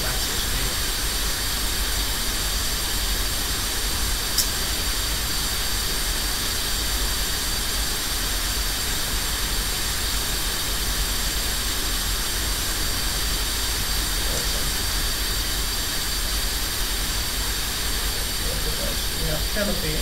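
A jet aircraft taxiing at around 10 to 15 knots gives a steady, loud engine roar with a high whine, continuous and unchanging throughout, with no speech.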